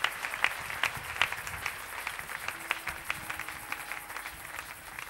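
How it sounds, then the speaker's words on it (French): A church congregation applauds during a service, with loose, uneven clapping and scattered sharper claps that fade somewhat over several seconds. The crowd is moderately close, and there is no clear talking over it. "Est-ce que nous pouvons acclamer le Seigneur?"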